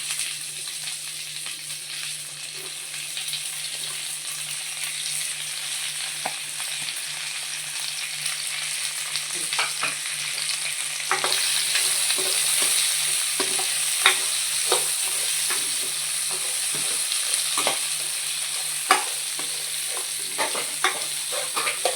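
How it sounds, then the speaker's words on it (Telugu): Sliced onions and tomatoes sizzling in a pan while being stirred, with steady frying hiss and repeated scraping clicks of the spoon, louder in the second half, no voices. "ఈ ఆనియన్స్ బాగా వేగనివ్వనండి."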